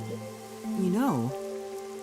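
Steady rain in the video game Master Detective Archives: Raincode hisses softly underneath sustained, bending synth music tones, continuous through the stretch without any clear drops standing out.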